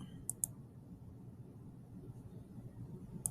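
Faint, crisp computer mouse clicks while working in Tinkercad, a quick pair of clicks near the start and one more at the end over a quiet room hum.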